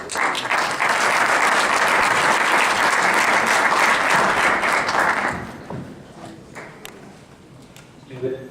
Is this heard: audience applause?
yes